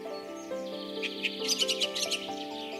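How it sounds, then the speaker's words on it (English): Bright, chirping calls of a gray junglefowl ring out in a quick cluster of sharp notes, fairly close, over a steady background hum. "Gray junglefowl."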